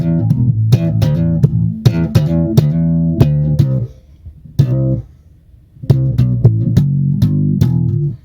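Squier Classic Vibe 60s Jazz Bass on its bridge pickup alone with the tone rolled fully down plays a dull, rounded bassline of plucked notes, loud and close, with a short pause midway.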